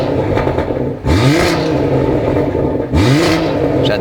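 BMW M140i exhaust in sport mode with the valve open, revving hard twice in quick succession, each rise in pitch ending in a crackle, loud and close over a steady idle rumble.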